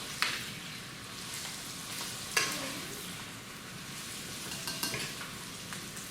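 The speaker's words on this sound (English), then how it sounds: "You're going to stir these for me, Kyla." Cowboy caviar vegetables are stirred in a bowl with salt, black pepper and garlic powder, giving a steady wet, gritty scraping and sloshing close up, with a few sharper clinks along the way and no talk.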